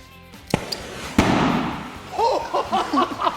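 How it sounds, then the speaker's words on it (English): A sharp firework bang bursts out, followed by a crackling hiss, with a couple of faint pops before and voices talking afterward. "That was an amazing explosion."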